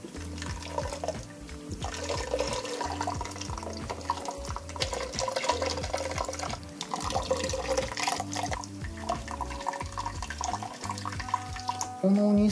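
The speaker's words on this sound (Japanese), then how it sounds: "水で流していきましょうか。" Tap water runs steadily as ketchup is rinsed off new Air Max sneakers that were treated with waterproof spray. The continuous splashing flow is partly masked by background music playing throughout.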